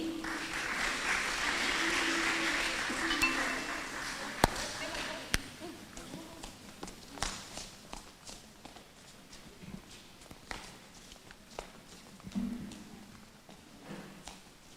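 At a kindergarten graduation ceremony, an audience claps for a reception class, the applause starting fairly strong then thinning into scattered claps and knocks, with voices talking in the background.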